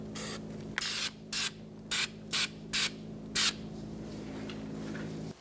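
Anti-seize is sprayed onto the rear hub of a 2002-2006 Honda CR-V in six short hissing bursts at a steady rhythm, close and crisp over a low steady hum.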